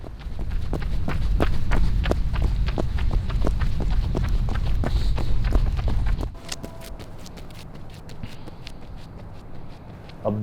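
Steady running footsteps pound along a road in a quick, even rhythm, loud and close for several seconds before dropping away to quieter scattered steps with faint wind.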